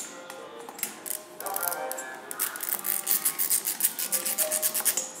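Cylinder head nuts being loosened and removed from a two-stroke engine, heard as close scraping and rubbing metal clicks that turn into a quick, rhythmic run of ratcheting strokes toward the end.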